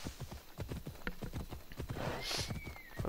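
Rapid rhythmic hoofbeats of a galloping horse in the video game Assassin's Creed Odyssey, a quick steady clip-clop at moderate level, with a brief whoosh and a faint whinny-like tone partway through.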